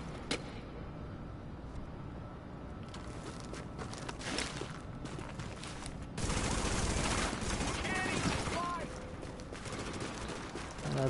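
Gunfire in the video game Tom Clancy's The Division: a steady clatter of shots through a noisy game mix, with a louder, denser volley in the middle.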